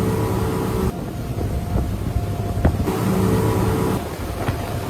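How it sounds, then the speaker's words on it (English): A motor boat fitted with a standard propeller and then a toroidal propeller drones steadily with a constant engine hum, the tone shifting slightly between sections and a faint click midway. "let's listen to a boat using a standard and toroidal one."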